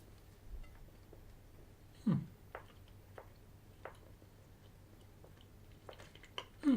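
Chewing a Sainsbury's chocolate toffee eclair with a chewy toffee shell and chocolate centre: soft, close, wet mouth squelches and clicks at an irregular pace, quiet and with no talking.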